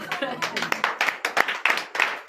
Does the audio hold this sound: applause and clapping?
yes